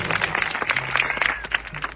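A crowd at a political rally in Gujarat claps steadily, a dense patter of many hands applauding for a couple of seconds.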